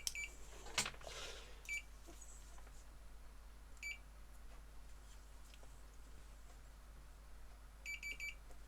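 A multimeter continuity tester checking a fuse from a GHD hair straightener, giving a few short, high beeps spaced several seconds apart in an otherwise quiet room, with a soft handling knock near the start.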